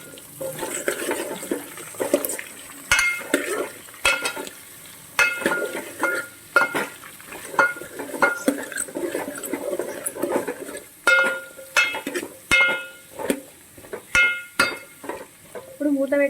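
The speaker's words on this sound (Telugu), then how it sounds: "ఒకసారి కలుపుకుందాం మంచిగా." Carrots and vegetables stirred in hot oil in a pan for homemade sambar, with a steady sizzle of frying broken by repeated scraping, clattering stirs of a utensil close by.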